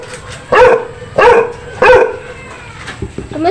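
Chow Chow dogs barking close by, three loud barks with a short whine at the end, recorded indoors at bath time.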